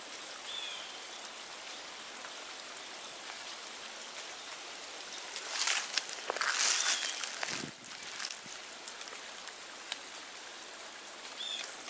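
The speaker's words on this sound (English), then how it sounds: "it also provides access down to the creek down below" Creek water runs below a hiking trail in a steady, hissing wash with a louder surge partway through, heard from a moderate distance with no voices.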